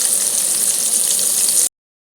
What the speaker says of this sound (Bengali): এটা ভাজা হোক ভাজা হলে আমি তারপরে ওলটাবো